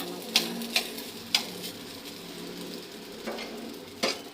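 Egg fried rice stir-frying in a pan: a steady, soft sizzle with sharp clacks of a utensil striking the pan at irregular intervals. It is fairly close, and nobody speaks.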